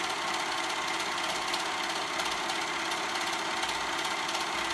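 A sewing machine runs steadily while stitching a fabric neckband, giving a dense, continuous mechanical whir with fine rapid needle rhythm and no pauses.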